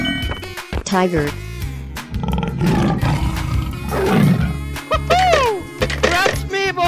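A tiger roars in a 3D animal sliding video game, rough loud roars rising over game music and scattered animal cries.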